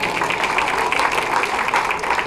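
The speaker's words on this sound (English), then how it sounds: "By applause, how many people have been to Disneyland?" Audience applause in a comedy club, a steady dense wash of clapping at fairly close range that holds at an even level through the short span with no talk over it.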